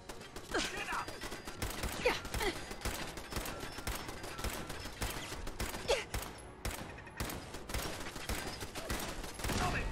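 Rapid, continuous gunfire in Fallout 4: dense bursts of sharp reports repeat throughout, fairly close and steady in loudness, with mechanical clicks mixed in.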